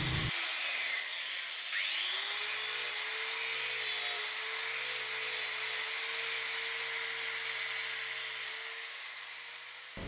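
An angle grinder works on a kinetic craft artwork, giving a steady bright hiss with a sustained motor whine that holds level for several seconds before cutting off.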